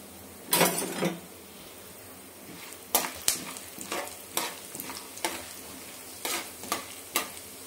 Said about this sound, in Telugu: 1 టేబుల్ స్పూన్ ఆవాలు మీడియం ఫ్లేమ్లో పెట్టుకొని వేయించుకోండి